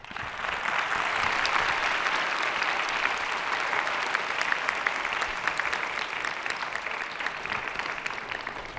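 An audience applauds steadily after a surgeon's lecture at a high school in Saga, a dense wash of clapping that holds at an even level throughout.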